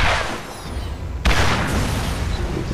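Rocket launcher blasts in the video game Borderlands: a loud, sharp boom about a second in, following a rumbling stretch of earlier blasts, with dense, continuous explosive noise throughout.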